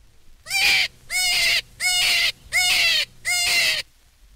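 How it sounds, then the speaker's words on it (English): Recorded cottontail rabbit distress call: five loud, harsh, wavering squeals of about half a second each, evenly spaced, close and alone against a quiet background. "Now, a cottontail."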